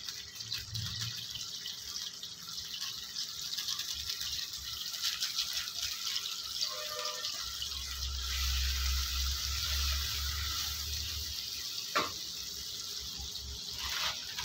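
Water poured from a tumbler into a pan while making a noodle omelette, a steady running, splashing flow with a low rumble in the middle stretch and a brief knock near the end.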